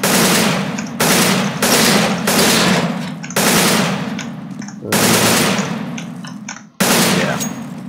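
Rapid automatic gunfire in CS:GO on a training map, loud bursts of fire shot at targets, several long sustained volleys broken by short pauses, with no talking.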